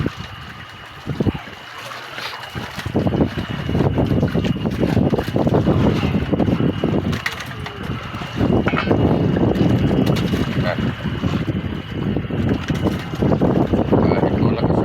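Strong gusty wind roaring steadily against the microphone outdoors during rice cooking, with a brief splash and clatter near the start and faint voices underneath.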